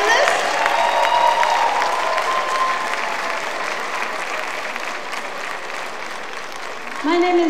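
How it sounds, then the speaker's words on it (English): A school arts festival audience gives performing steel pan drummers a long round of applause, dense and steady at first, slowly easing, with a voice cutting in at the very end. "hear a great round of applause for all of our performing artists."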